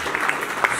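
Brief scattered clapping from a seated audience at a Nepali comedy and folk music stage event, a short moderate burst of applause.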